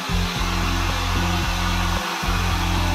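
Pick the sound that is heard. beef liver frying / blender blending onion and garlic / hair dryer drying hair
hair dryer drying hair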